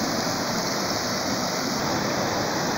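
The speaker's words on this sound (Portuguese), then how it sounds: "Olha a caída d'água, ó." A low-flow waterfall at a cachoeira gives a steady, even rush of falling water, close and continuous, with no voices.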